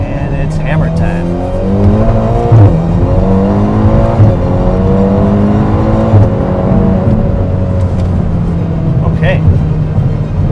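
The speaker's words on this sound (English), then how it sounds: "Car gets up and goes. Nice exhaust note. Quick shifts." Ferrari Portofino accelerating hard from a stop, the exhaust note rising through the revs with several quick upshifts breaking the climbing tone, heard from inside the car at close range.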